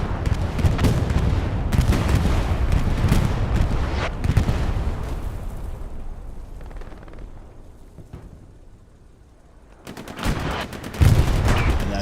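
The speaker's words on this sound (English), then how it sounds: "GBI bombing run just came across." Bombing run in Hell Let Loose, a WWII shooter, during a competitive match: a dense, loud barrage of explosions and rapid gunfire rumbles for several seconds, fades briefly, then returns with sharp blasts.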